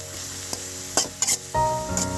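Chopped onions fry in about ten tablespoons of white soybean oil for a village-style koi fish bhuna, a steady close sizzle broken by a few sharp stirring scrapes and clinks, with the sizzle swelling louder near the end.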